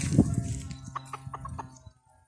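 A few soft, close clucks from a chicken following a brief low rustle, trailing off into near silence.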